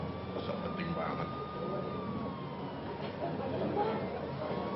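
An ambulance siren wails steadily in the distance, a long drawn tone rising and falling faintly beneath a dense crowd murmur and background noise, with no clear break throughout.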